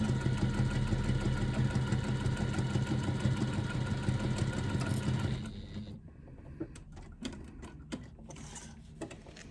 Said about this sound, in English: you're going to stitch around the outside of your pocket lining using a 1/4 inch seam allowance